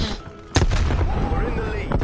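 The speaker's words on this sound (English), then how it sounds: "Throwing frag." A frag grenade goes off in an online shooter match, one sudden loud boom followed by a rumbling tail, heard up close with a faint voice underneath.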